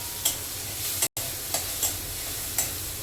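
Bottle gourd frying in a pan and being stirred, with a steady sizzle and a few light scraping strokes of the spoon at irregular intervals, heard close up with no voices.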